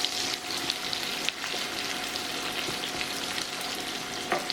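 Onions frying in hot oil for a pepper sauce, a steady close sizzle and crackle throughout with occasional stirring scrapes.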